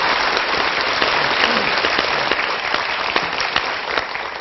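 An audience applauds after a string quartet performance, a steady, loud, dense wash of clapping that holds without a break.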